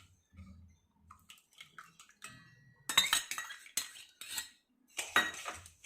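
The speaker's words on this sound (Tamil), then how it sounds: "இப்போ அது அவ்வளோத்தையும் நல்லா மிக்ஸ் பண்ணி விடுங்க, சீனி கரையிற வரைக்கும்" Sugar and ghee being stirred in a metal pan for Kalakala sweet, a few faint taps at first, then loud, close bursts of spoon scraping and clinking against the pan, with no talk.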